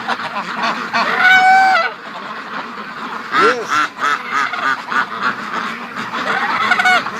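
Brant geese honk repeatedly in loud, nasal bursts near a creek-side yard where ducks are also kept, with a person speaking briefly between the calls.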